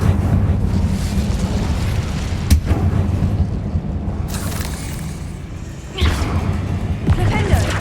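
The Incendio fire spell from Hogwarts Legacy bursts out with roaring whooshes and heavy booming blasts over a rumbling low bed, loud and close, with a sharp crack and another fiery surge later; a voice is heard among the blasts.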